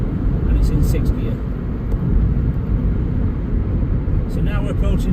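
Steady, loud low rumble of road and engine noise inside a 2019 Vauxhall Corsa 1.4i automatic cruising at 70 mph in 6th gear on the M1 motorway, continuous throughout with faint speech.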